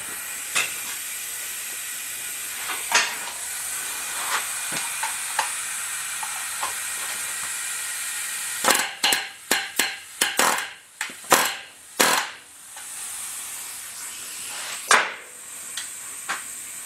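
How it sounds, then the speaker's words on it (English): A large 4X pneumatic rivet gun sets rivets in sheet metal with a few light bursts of sharp hammering clustered midway, over a steady hissing background, followed by a lone later hit. "This is a 4X gun. Much larger than I need for this, but this is the one I have today, so it's just going to take a couple light hits and the rivet will be set."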